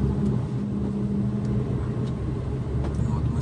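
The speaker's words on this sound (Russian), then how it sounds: "Вот, мы с Кондеем едем." A car drives along a road with a low, steady engine rumble and road noise heard from inside the cabin, continuous and moderately loud throughout.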